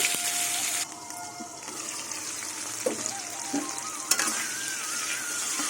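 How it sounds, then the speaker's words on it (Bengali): Lightly salted potato pieces fry in hot oil, giving a steady, close sizzle with a few soft stirring knocks partway through. "আলুটা আমি ভেজে নেব"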